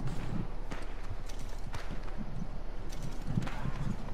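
Hooves beat in a quick, steady rhythm as a horse gallops in Red Dead Redemption during a gang shootout, the clip-clop loud and close throughout with a faint rustling underneath.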